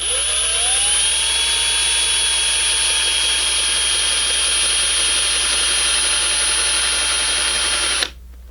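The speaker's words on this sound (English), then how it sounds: "we now want to take the drill and just slowly get it going" A power drill boring angled pocket screw holes into wood, starting slowly, runs as a loud, steady whine held at an even pitch for about eight seconds before stopping abruptly.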